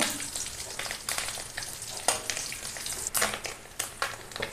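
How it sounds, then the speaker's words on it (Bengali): Fish roe fries in a pan with a steady, close sizzle, broken by repeated scraping stirs at an uneven rhythm, with no voices. "আর একটু লাল লাল করে ভেজে নেব"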